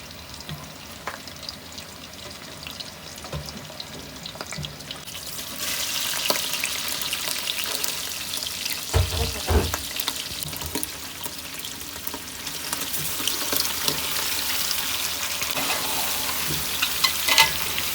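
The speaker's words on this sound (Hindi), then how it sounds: "ये देखिए, कलेजी हमने डाल दी है। इसको हम 5 मिनट तक अच्छी तरह फ्राई कर लेते हैं।" Chicken liver (kaleji) frying with onions in a pan gives a steady, close sizzle that turns louder and denser after about five seconds, with occasional stirring clatter and no talking.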